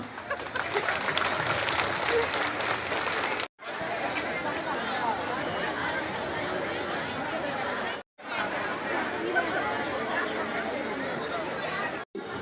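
An audience claps at a public meeting, a long, dense roll of applause mixed with crowd chatter, broken by two short cuts.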